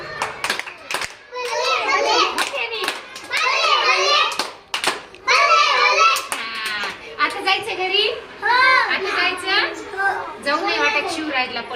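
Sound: children clapping hands

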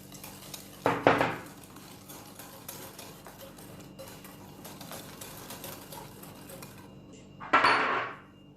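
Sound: whisking eggs and sugar in bowl

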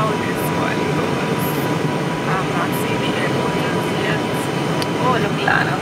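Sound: Caribbean Airlines airliner landing on runway

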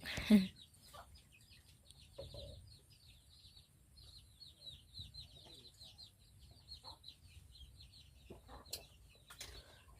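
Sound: chickens clucking

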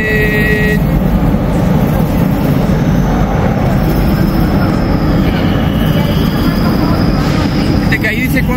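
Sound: subway train arriving at station, Buenos Aires

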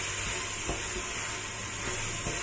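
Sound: vegetables sautéing for lentil soup

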